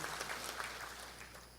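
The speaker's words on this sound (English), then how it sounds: "I'd like to give them a round of applause for their hard work" Audience at an economic forecast breakfast in Lakeland, Florida, clapping in a brief, faint burst of applause that thins out toward the end.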